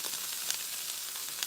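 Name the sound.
food sizzling while cooking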